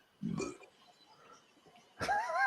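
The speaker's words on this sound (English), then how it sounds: "Who just burped?" A single low burp is heard near the start during a late-night live stream with beer, followed by quiet room sound and a brief burst of speech at the end.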